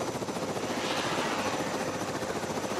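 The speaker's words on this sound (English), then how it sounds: "These are the Russian helicopters I was talking about earlier." A Ka-52 Russian attack helicopter in a video game flies close by, its rotor throbbing in a loud, continuous rhythmic chop.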